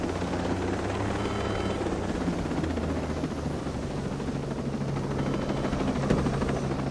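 Steady, close helicopter rotor and turbine drone in a video game, loud and continuous with no breaks, low thumping bands under a broad rushing wash and no voices.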